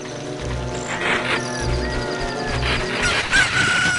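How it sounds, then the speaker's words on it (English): A rooster crows at sunrise in the video game The Legend of Zelda: Ocarina of Time Master Quest, a clear cock-a-doodle-doo over steady game music and low rhythmic background tones. "And the rooster crows"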